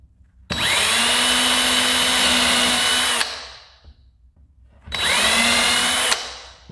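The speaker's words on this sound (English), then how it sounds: "I'm only gonna pilot hole into the drywall" A power drill bores pilot holes into 5/8-inch drywall over wood framing in a garage, in two close, loud bursts of steady whirring, the first about three seconds and the second slightly shorter, with no talking.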